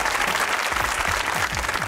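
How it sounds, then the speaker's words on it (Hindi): A studio audience at a televised comedy talk show breaks into sustained, dense applause that stays even and loud throughout, with no talking. "तालियां।"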